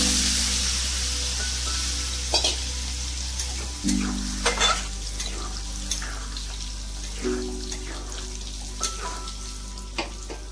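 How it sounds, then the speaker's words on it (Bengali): Potatoes and pointed gourd fry with spices in a pan, sizzling and being stirred loudly up close. Partway through, the water from boiling the potatoes is poured in and the hiss shifts, with scattered clinks of stirring and no talk. "আলু পটলটাকে এবার জল দিয়ে দেবো।"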